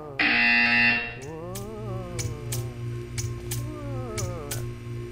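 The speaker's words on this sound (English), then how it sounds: "You will hear a buzzer." A loud, harsh buzzer from the video game Portal 2 blares for under a second, then gives way to warbling electronic game music with light ticking accents.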